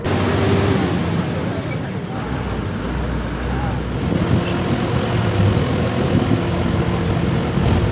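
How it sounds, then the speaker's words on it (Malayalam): A KSRTC bus pulls out of Kumily bus stand bound for Cumbum, its engine and road noise forming a loud, steady rumble that barely varies from start to finish, with wind buffeting mixed in. "കുമളി ബസ് സ്റ്റാൻഡിൽ നിന്ന് കമ്പത്തിന് പോകുന്ന KSRTC ബസ് സ്റ്റാർട്ട് ചെയ്തിരിക്കുക"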